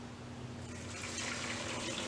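Soaking water from chilies for a Colorado-style chili is poured into a container, a steady close liquid rush that swells and brightens partway through as the stream fills the vessel, with no talking.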